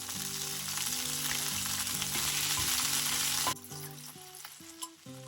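Mint leaves and green chilies fry in a hot pan with a loud, even sizzle under music, then the hiss cuts off abruptly partway through while the music carries on.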